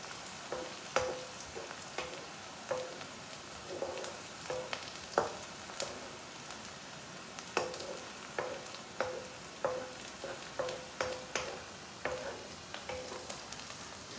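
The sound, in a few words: onions (pyaz) frying in a pan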